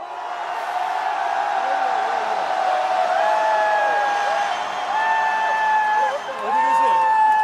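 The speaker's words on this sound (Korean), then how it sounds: "전방 함성 3초 발사!" Political rally crowd in Gwangju shouting and cheering together, a sustained, dense roar of many voices with whoops rising above it throughout.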